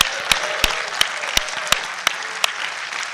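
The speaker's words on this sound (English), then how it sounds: "Hey, by a round of applause," A conference audience at an annual summit claps steadily in dense applause, punctuated by sharper individual claps, filling a large room without talk.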